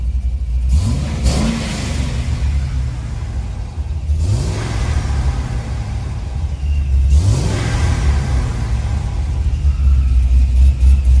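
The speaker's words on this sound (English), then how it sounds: "Do a little rev so you guys can hear the blow off valve inside the car." A supercharged Corvette fitted with a 50mm blow-off valve, heard from inside the car as the engine revs up in three rising surges, each ending in a sharp hiss from the valve, over a loud, steady low rumble.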